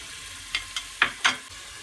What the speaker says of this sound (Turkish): Soğanımı yağla öldürmek istiyorum.